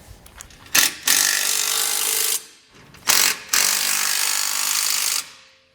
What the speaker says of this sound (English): We're just going to go ahead and snug up these 2 bolts here, making sure that we have everything aligned here at the front with our flange and our base plate.